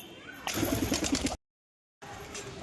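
Pigeons coo close by in a short rhythmic run of soft notes, then a brief gap of silence before faint outdoor ambience returns.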